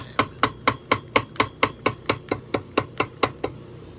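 A small hammer taps steadily about four times a second, a string of sharp, evenly spaced metallic knocks, clear and close with no talk, while a binding is replaced on a vintage Shell Hanover French horn.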